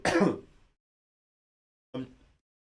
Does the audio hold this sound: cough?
yes